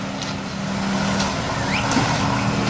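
A concrete mixer truck at work pouring a dry parking pad, its engine a steady, fairly loud rumble that holds throughout with faint higher whines over it.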